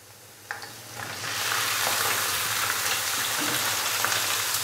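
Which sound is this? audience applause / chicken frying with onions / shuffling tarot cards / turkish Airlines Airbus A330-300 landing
chicken frying with onions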